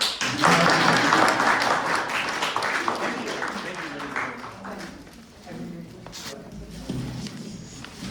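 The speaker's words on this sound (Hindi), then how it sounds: "तालियां तो बजा दो" An audience at a poetry show in Allum Manor Hall, Borehamwood, honouring Dr. Manju Lodha, breaks into brisk clapping that thins out after a few seconds as people begin talking nearby.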